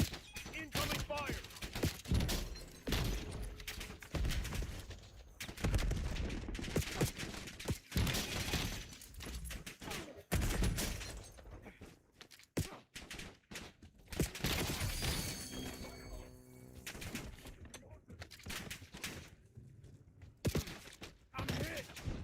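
Gunfire in Black Ops 7: a long, chaotic stretch of repeated shots, crashes and shattering impacts, loud and close, mixed with game effects and intermittent talk.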